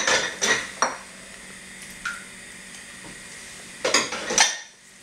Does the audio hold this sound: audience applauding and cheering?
no